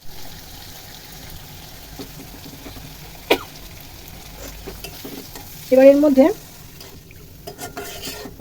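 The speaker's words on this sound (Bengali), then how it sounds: "এটা দিয়ে একটু মশলাটা নাড়াচাড়া করে নেব" Masala spices frying in a pan with chili powder being stirred, a quiet sizzle under occasional scrapes and clinks, one sharp knock, and a short burst of voice partway through.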